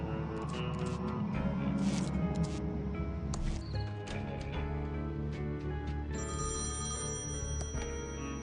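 A telephone rings inside the point-and-click game Thimbleweed Park, a repeated electronic ringing that sits among other game sounds at steady, moderate loudness with no speech.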